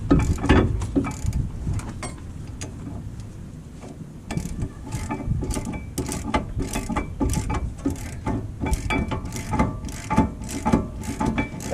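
Ratchet and tool work on rear brake caliper bolts of a 2016 Mazda 6: repeated close clicks and metallic ticks in irregular bursts, fairly loud throughout, with no talking.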